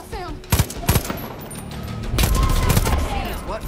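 Gunfire in the Far Cry 5 game, a few sharp close shots in quick pairs followed by a heavier sustained rumble of fire and booms, with a voice speaking over part of it.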